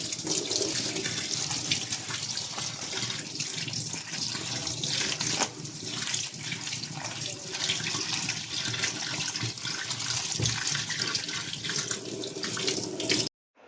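Running water pours steadily from a tap while soya chunks are rinsed in a strainer, a continuous splashing rush that stops abruptly at the end.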